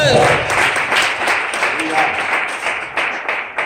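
A church congregation breaks into loud, dense applause, steady clapping from many hands with some voices mixed in beneath it.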